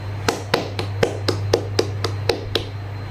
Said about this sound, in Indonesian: Beri aplaus dulu untuk kelompok pro.